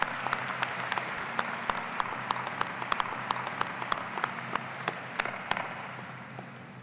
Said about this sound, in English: How about a round of applause for all of them?